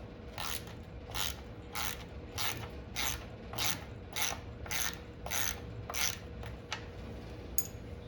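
A ratchet wrench removes the 10 mm nuts from the timing chain covers of a Porsche 993 engine. The clicking comes close and in a regular run of about a dozen short bursts, then thins out into a few last clicks.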